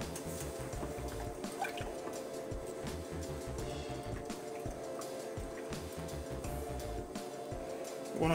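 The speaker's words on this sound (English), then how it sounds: "you want to go ahead and add the cream in it. And you're going to do it slowly." Cream poured slowly into a pan of almost fully melted butter while making chicken fettuccine alfredo, giving a soft, steady trickling and dripping of liquid over a faint kitchen hum, close and quiet throughout.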